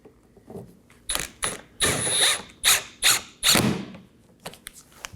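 Hand ratchet snugging down 7mm bolts at the mud flap and bumper corner of a Chevrolet Equinox, several close bursts of rapid clicking separated by short pauses, with fainter clicks trailing off at the end.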